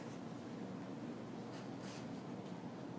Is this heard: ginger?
no